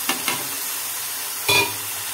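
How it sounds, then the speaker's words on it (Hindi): Potatoes frying in a pan with a steady sizzle, stirred with a utensil in a few short scraping strokes, close and fairly loud. "आलू को भी हम साथ साथ फ्राई कर लेंगे"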